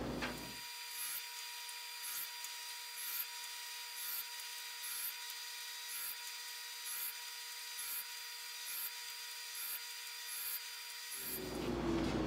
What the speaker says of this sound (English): I don't have to think too much about running it through the saw.